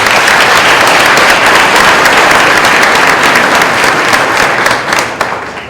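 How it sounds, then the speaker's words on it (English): Sustained, dense applause from an audience at a high school winter sports awards ceremony, steady and loud throughout before tapering off at the end. "So a round of applause for that."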